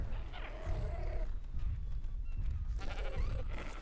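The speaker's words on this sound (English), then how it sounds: "Oh, does this sheep want to snuggle?" A sheep in the video game ARK Survival Ascended bleats a few times at moderate loudness over a steady low game ambience, with no talk.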